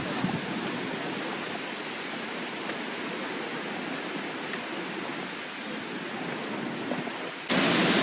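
A waterfall pours into an emerald lake in a park, producing a dense, steady roar of rushing water that stays loud and unbroken throughout, swelling slightly brighter at the very end.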